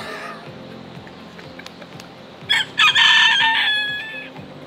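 A small rooster crows once nearby on a walking trail in the Azores, a loud strained call with a couple of sharp opening notes, over a low steady rumble.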